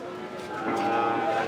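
A cow lows at a busy cattle market where animals are sold for Qurbani, a short drawn-out moo rising in strength and heard close over the crowd's background murmur.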